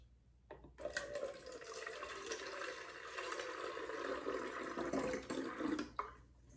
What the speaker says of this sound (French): on va renverser le Gatorade dans la bouteille de liquide vitre.